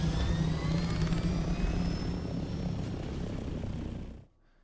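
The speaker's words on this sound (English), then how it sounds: "Let's take my speedy copter." A helicopter in the video game Dune Awakening whirs with a steady rotor and engine drone, then cuts off abruptly near the end.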